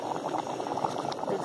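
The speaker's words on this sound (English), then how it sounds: "cheesy chicken and pasta bubbling" A pot of cheesy chicken and pasta bubbles steadily on a lakeside dock, the thick, soft popping close and quiet without a break.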